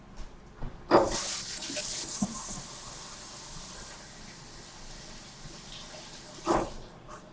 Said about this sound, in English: I'm gonna have to wash my hands again.